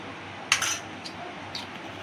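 A spoon mixing rava cake batter with vanilla extract in a bowl: a few sharp metallic clinks against the side, one louder strike followed by two lighter taps, spaced about half a second apart over faint room noise.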